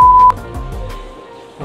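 A steady electronic test-tone beep sounds alone for a fraction of a second, the kind paired with color bars in video editing, then cuts off into quiet room noise with faint background voices.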